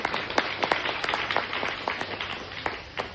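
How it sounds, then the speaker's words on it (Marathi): Scattered applause at a gathering for a blind welfare association, a few hands clapping fairly close, the claps uneven and moderately loud over a noisy room. "टाळ्या होऊ द्या"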